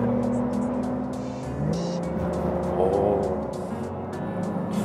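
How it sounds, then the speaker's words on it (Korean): A Porsche 911 Carrera GTS Cabriolet engine rumbles with a throaty sports exhaust note, revving up and settling back, close and steady throughout. "확 달라지네요, 배기 소리"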